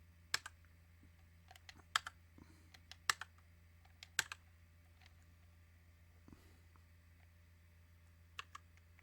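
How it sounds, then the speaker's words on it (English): Sparse, sharp key presses click on a computer keyboard in a quiet room, arriving in irregular single taps and short pairs. "and then you hit your keyboard second"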